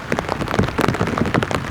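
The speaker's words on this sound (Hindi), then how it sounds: "बारिश अब बढ़ने लगी है" Heavy rain in a forest in Uttarakhand at a solo campsite, a dense close patter of drops striking surfaces, steady and loud with no voices.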